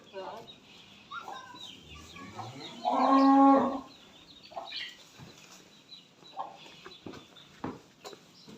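A large Limousin cow bellows once, loud and close, in a jumbo cattle pen in Garut. Faint background voices and farmyard noises surround the moo.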